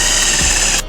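A power drill drives screws into fiberboard while mounting an RV camera, giving a short, close, steady whir that cuts off abruptly near the end.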